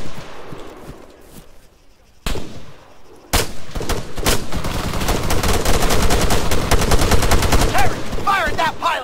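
Dense automatic gunfire in the military shooter game ArmA 3, loud rapid bursts after a few isolated shots, building into sustained fire with voices faintly underneath.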